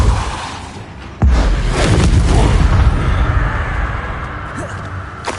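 The Expulso spell explodes in the game Hogwarts Legacy: a sudden, loud, deep boom that rumbles on and slowly fades over several seconds.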